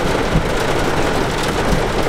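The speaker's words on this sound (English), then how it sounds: "We'll probably get 3, 4, 5 inches of rain. It just comes in buckets, man." Heavy rain pours down during a severe thunderstorm with gusty wind, a loud, unbroken roar of water hitting surfaces that stays constant and close throughout.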